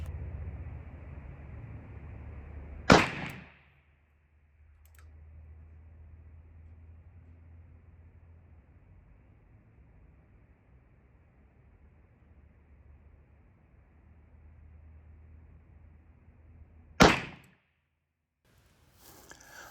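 Two sharp, loud shots from a Smith & Wesson Military & Police .38 Special pre-model 10 revolver firing 158 grain lead round nose ammunition, spaced about fourteen seconds apart over quiet outdoor hiss.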